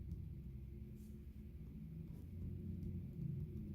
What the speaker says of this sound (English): there's like big trucks coming by